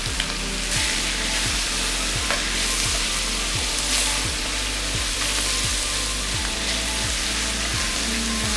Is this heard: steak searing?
yes